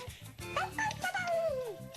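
A person's voice imitates a dog barking with a few short yipping, whining barks, close and clear, with some talking mixed in.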